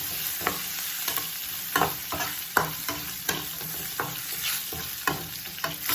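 Crushed garlic sizzles steadily in a hot pan while a spoon stirs it, with repeated soft scraping strokes over the constant frying hiss and no talking.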